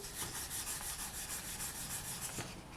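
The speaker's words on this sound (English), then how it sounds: "I'm going to grab my 400 and I'm just going to start sanding." Polymer clay is sanded by hand with 400 grit sandpaper, giving a close, steady rhythmic rubbing hiss in even back-and-forth strokes, quiet and alone.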